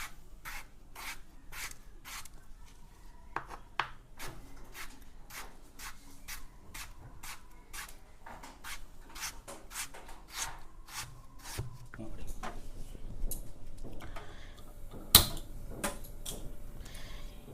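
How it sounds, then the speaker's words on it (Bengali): A knife taps and rasps rhythmically through a potato on a board, cutting it into fine pieces with dozens of quick even cuts, close up and fairly quiet. "এবার আলুটাকে কেটে নেব ঝুরঝুরি করে।"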